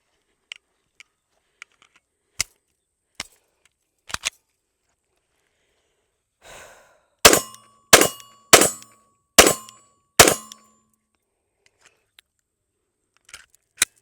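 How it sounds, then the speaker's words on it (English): A Stoeger STR9MC 9mm pistol fitted with a Vortex Defender CCW sight fires five loud, sharp shots in quick succession at an outdoor range, preceded by scattered handling clicks. "Stoeger STR9MC, chambered in 9mm with the Vortex Defender CCW."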